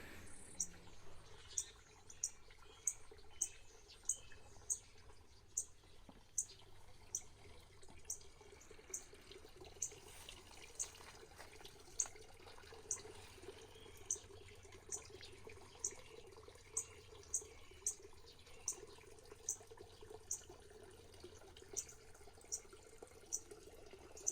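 Small garden water fountain trickling outside an open window, a faint continuous burble with regular ticking insect chirps and occasional birds in a quiet spring cottage garden.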